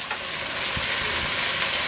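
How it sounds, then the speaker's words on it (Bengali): Chopped tomatoes frying in a pan, giving a soft, steady hiss of sizzling with a few faint stirring knocks, fairly quiet and close, with no talking. "এইটাকে একটু ভেজে দিতে হবে"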